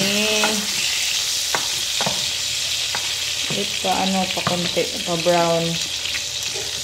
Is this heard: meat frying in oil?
yes